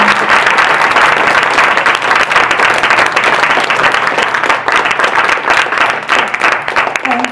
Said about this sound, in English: let's go ahead and start out with giving Mani an applause as well